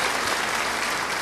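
A church congregation applauds steadily throughout, a dense, even wash of clapping from many hands with no break.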